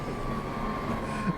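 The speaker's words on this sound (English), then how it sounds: "That was a train." Train rumbling past in Train Simulator 2020 on the Great Eastern Main Line between London and Ipswich, a steady low rolling roar with a faint constant tone, no voices.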